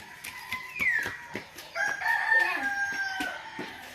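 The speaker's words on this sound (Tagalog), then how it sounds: "Magpakain ng manok." Hens cluck in short repeated bursts during feeding while a rooster crows nearby, his drawn-out call rising over the flock; no one speaks.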